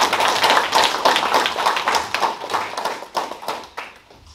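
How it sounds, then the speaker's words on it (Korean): An audience at the 10th anniversary ceremony of the Nogeun-ri Peace Park gives dense, sustained applause to welcome a speaker, with many hands clapping together before it thins and fades away. "큰 박수로 환영해 주시기 바랍니다."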